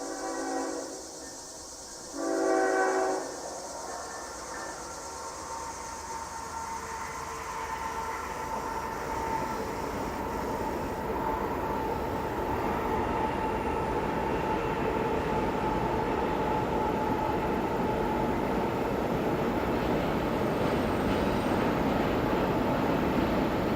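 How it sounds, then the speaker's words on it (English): Norfolk Southern freight train sounding its horn in two long blasts as it rounds a bend toward a double-track crossover, then a steady, growing rumble of railcars rolling past close by. "We can see the train come around the bend as it approaches the second of two crossovers"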